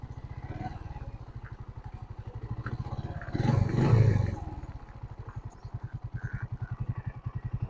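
A motorcycle engine idles with a steady, rapid low putter, swelling briefly louder in the middle before settling back to its even chugging rhythm.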